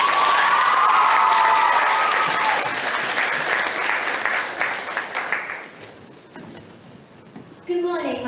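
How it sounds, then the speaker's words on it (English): Audience applause for a school team at a public speaking competition: loud, dense clapping that fades over several seconds, followed by a voice starting to speak. "Please welcome the amazing Austin House team by giving them a huge round of applause"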